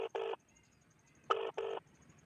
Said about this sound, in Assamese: মই এতিয়া আপোনালোকৰ সন্মুখতে ডাইৰেক্ট ফোন কৰিম